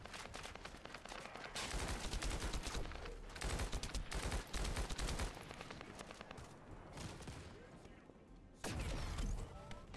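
Rapid gunfire bursts rattle through a fight in The First Descendant video game, dense automatic volleys with short pauses between, loud and close, with a voice faintly underneath.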